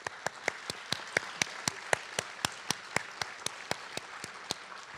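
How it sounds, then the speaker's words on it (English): Clapping at an adult education graduation ceremony: crisp, evenly spaced single claps at a steady beat, moderately distant, over a soft hall murmur. "the commitment our students have shown deserves recognition and applause."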